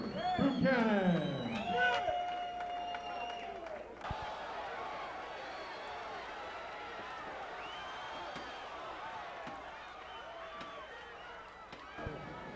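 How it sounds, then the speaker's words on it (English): A boxing crowd files out of Martins West in Woodlawn, Maryland, after a main event. A brief swelling tonal sting opens, then a steady, moderately loud murmur of many voices and shuffling fills the hall with occasional knocks. "Crowd filing out here"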